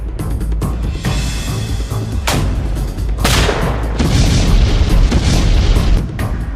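Grenades explode in the war in Ukraine, several heavy booms a second or so apart, loud and close over a rumbling, noisy background.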